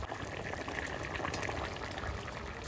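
Curry of elephant foot yam bubbling in a pot, a steady dense simmering texture with constant fine popping, close and even throughout with no voices.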